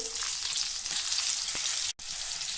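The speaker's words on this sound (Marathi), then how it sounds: "तेल आणि मिठावर ह्या छान मस्त भाजून घ्यायचे आहे" Green chilies roast in oil and salt in a pan, a steady close sizzle and crackle of frying that runs continuously, with a brief dropout near the end.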